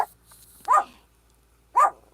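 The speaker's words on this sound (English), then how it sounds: "those are my dogs going crazy" Two dogs barking indoors, two separate sharp barks about a second apart, moderately close and loud over near silence.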